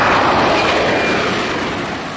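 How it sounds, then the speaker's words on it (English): Engines of an Embraer C-390 Millennium military transport aircraft, a loud broad roar that holds steady and fades slightly over two seconds, with no voices. "The C-390 Millennium is a multi-mission transport aircraft"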